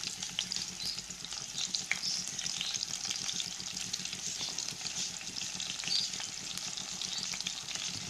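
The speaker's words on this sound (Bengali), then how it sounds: "এখন পেঁয়াজটা আমি একটু ভালোভাবে ভেজে নেব।" Onions fry in a pot with cardamom, cloves and cinnamon for mutton biriyani, making a continuous bright, crackling sizzle at a fairly low level, steady throughout with small sputtering pops and faint stirring.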